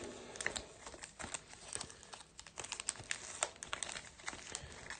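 Packs of Topps Chrome Liverpool trading cards are shuffled by hand, giving close, irregular crinkling and rustling taps of foil wrappers in quick bursts.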